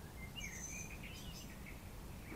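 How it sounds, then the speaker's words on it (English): Birds singing in an oak tree, several quiet, fairly distant chirps and whistled phrases overlapping over a soft background hiss. "The birds above my head giving it their all."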